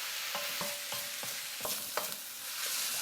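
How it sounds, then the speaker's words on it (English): Mushrooms fry in a pan for risotto under a constant hiss of sizzling, and a spoon scrapes through them in a series of distinct strokes, about eight in three seconds. "stir for about 7 to 8 minutes until the mushrooms have softened up and released some of their delicious juices"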